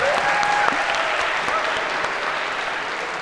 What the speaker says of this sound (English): A round of applause, because that was difficult